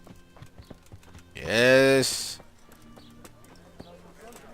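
Horse hooves clopping in Kingdom Come Deliverance as a called horse arrives, sounding as light, scattered steps, then a loud whinny swells in the middle. Someone speaks briefly.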